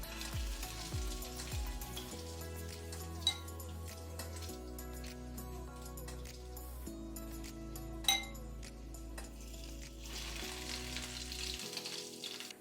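Breaded veg cutlets fry in a pan with a soft, steady sizzle, faint and close, with a few sharp clinks of a utensil against metal over a low background hum.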